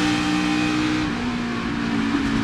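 NASCAR race car engine heard from on board, a steady loud roar as the driver lifts off the throttle before a wreck, the engine note shifting slightly with constant road and wind noise, no talk.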